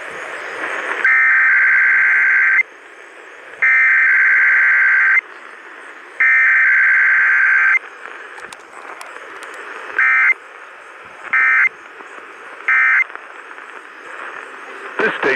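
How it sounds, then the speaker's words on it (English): EAS attention tones from KDKA radio's emergency alert test: three loud steady two-tone blasts of about 1.5 seconds each, followed by three short tone bursts, over a faint background hiss. "The following is a test of the EAS."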